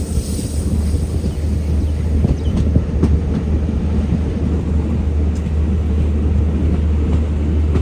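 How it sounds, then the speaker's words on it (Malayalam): A train pulls into Baramulla station in Kashmir after the run from Srinagar, giving a loud, steady rumble with faint clicks from the wheels and wind buffeting the microphone. "ശ്രീനഗറിൽ നിന്നും 56 കിലോമീറ്റർ യാത്ര ചെയ്ത് ട്രെയിൻ ഇതാ ബാരാമുള്ള സ്റ്റേഷനിലേക്ക് എത്തിയിരിക്കുകയാണ്"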